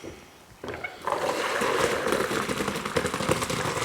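Cooked macaroni and its water poured from a pot into a colander, a sudden close gush that settles into a steady splashing drain.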